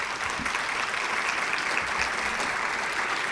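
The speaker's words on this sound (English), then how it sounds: "Big round of applause for her." A campus crowd at a State of the Campus address gives a mentor a big round of applause, a loud, dense and continuous clapping.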